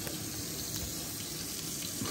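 Water runs steadily from a tap while an American Bully puppy is rinsed, a loud, continuous splashing hiss heard alone.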